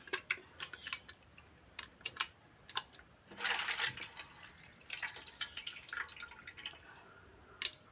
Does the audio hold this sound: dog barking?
no